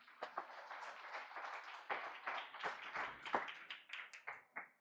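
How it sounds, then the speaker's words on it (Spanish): A church congregation claps together at a worship service, a dense, steady round of hand claps with a few sharper individual claps standing out, moderately close and lasting the whole stretch with no talk over it. "dale un aplauso al Señor."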